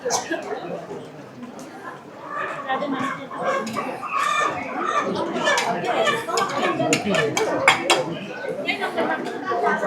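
Desi roosters and hens kept in wire-mesh cages at a weekly village market, clucking and squawking up close amid busy crowd chatter, with a person talking over the birds throughout.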